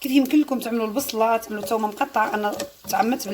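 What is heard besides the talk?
None of the usual background noises is heard.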